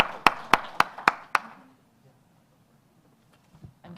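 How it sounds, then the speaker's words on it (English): A few people clap about five times in a quick, sharp rhythm at a meeting, then the claps fade into near silence, with faint taps near the end. "So big round of applause for Aisha and also for Rob and his team."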